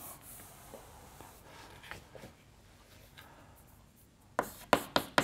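Writing on a board, a short run of sharp, crisp taps and strokes that comes up near the end after quieter faint scratching.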